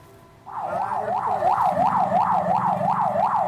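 An ambulance siren wails on an Indonesian street in Balikpapan while carrying a patient to hospital. The loud, steady up-and-down cycle sweeps repeatedly and starts abruptly after a brief quiet moment, with road noise underneath.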